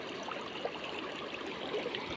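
The Kosi river near Chukam village in Corbett rushes fast over its bed, a steady, loud, close broadband roar of flowing water with no voices over it.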